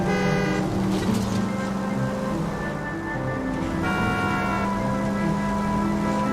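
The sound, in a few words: car horn honking in video game L.A. Noire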